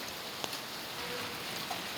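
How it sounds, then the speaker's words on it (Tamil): Steady heavy rain pours down in Thiruvananthapuram, a dense continuous hiss of drops on surfaces with an occasional louder splash, no voices. "ஆனால் மழை பயங்கரம் பெஞ்சிகிட்ருக்கு."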